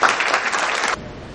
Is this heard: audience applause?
yes